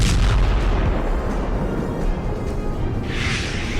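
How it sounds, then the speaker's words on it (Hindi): A heavy boom from an explosion in Doha, Qatar, captured in news footage: a loud, rumbling blast that fills the lows and rolls on with a sustained roar, ending in a brighter hiss. "कतर की राजधानी दोहा में हुए इस धमाके ने नेतन्याहू के एजेंडे को लेकर बड़े सवाल खड़े किए"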